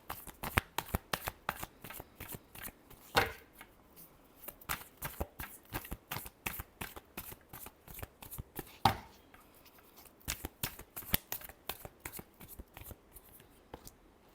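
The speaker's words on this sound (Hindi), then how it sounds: "Last shuffle." Tarot cards are shuffled by hand in quick, crisp riffles and slaps, close and fairly quiet, a steady run of flicking card noises with a couple of louder bridge-like riffles and no talking.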